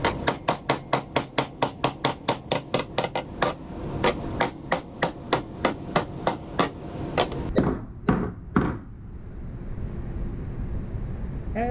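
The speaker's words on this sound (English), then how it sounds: "give it some abuse with a hammer" Hammer blows drive a rock slider into place on a Mercedes W163: a quick, steady run of about two dozen sharp metallic strikes, then a few slower, heavier hits, close and loud, with no talking.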